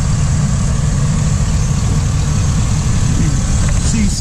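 A 6.0-liter engine in a 2004 GMC Savana 3500 dually box van idles close by, a loud, even low rumble that holds steady throughout.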